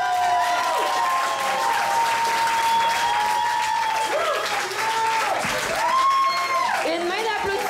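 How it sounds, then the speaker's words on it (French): A wedding crowd at Mont Tremblant applauds loudly and steadily, with cheers and whoops rising over the dense clapping throughout. "Je pense qu'on peut les applaudir fort."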